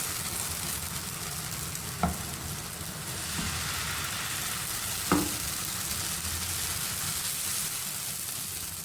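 Thin liquid flour batter for a soft tortilla-style roti sizzles on a pan over a low flame, a steady soft frying hiss with a couple of faint clicks near the start and middle.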